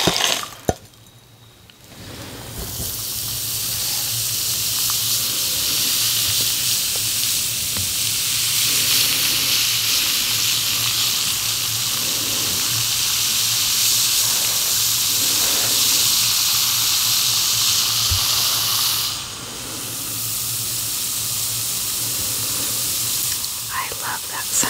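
A bath bomb fizzing in water, a steady close hissing crackle that runs continuously for a long stretch and softens slightly near the end, with faint whispery voice sounds underneath.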